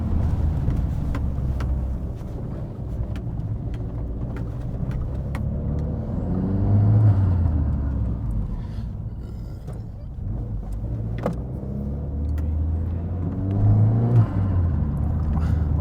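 A 360 bhp Renault Megane RS engine runs close up with a deep, continuous rumble, swelling twice into louder throttle rises before settling back, with no one speaking over it.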